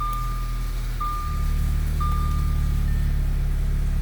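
On a B8 Audi A4 shifted into reverse in a garage, a parking sensor gives evenly spaced electronic beeps over a steady low engine hum.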